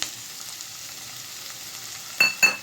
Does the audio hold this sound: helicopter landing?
no